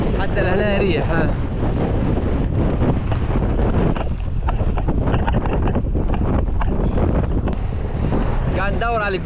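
Strong wind buffets the microphone of a cyclist riding in Iran with a constant loud rumble, while a voice talks intermittently underneath.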